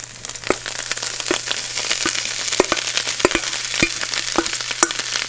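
Vegetables with a spoonful of tomato paste stir-fry in a pan, a steady sizzle broken by repeated sharp clicks and scrapes of a utensil against the pan, close and alone with no talking.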